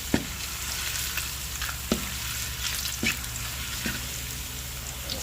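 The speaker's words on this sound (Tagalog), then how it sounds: "Ito natin yung luya. Yan, gisa na po tayo." Ginger sautéing in a frying pan gives a steady sizzle, with a few sharp clinks of a utensil stirring against the pan and no one talking.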